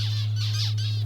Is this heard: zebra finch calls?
yes